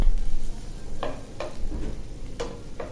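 Garlic frying in a pan for a bitter gourd dal, with a steady close sizzle and several sharp scraping stirs of a spatula against the pan.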